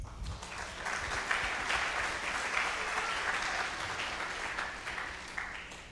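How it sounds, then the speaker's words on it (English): Steady applause from a school audience at a middle school spring concert, a dense wash of clapping holding throughout at even strength. "So clap for yourselves."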